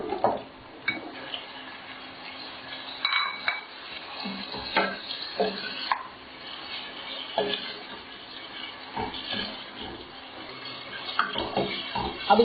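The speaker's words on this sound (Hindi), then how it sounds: "और इसको हिलाएंगे। साथ ही हम इसमें चिकन ऐड कर देंगे।" Chicken being stirred into a pot of haleem with ginger, producing soft scraping, clattering and wet stirring sounds with a faint sizzle, fairly quiet and irregular.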